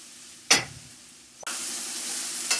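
Mushrooms and onion fry in a pan for a quiche. A sharp scrape gives way to a louder, steady sizzle that continues to the end.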